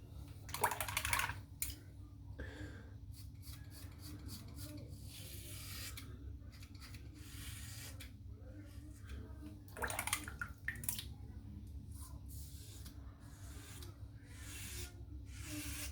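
A razor scrapes across a lathered head in repeated short rasping strokes, faint and close, separated by brief pauses and occasional louder swishes.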